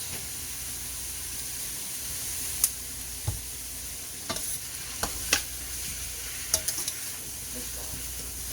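Minced garlic and salt get stirred into a sizzling steak mixture for a cowboy steak sandwich. A steady frying hiss runs throughout, with occasional scraping clicks from the spoon against the pan.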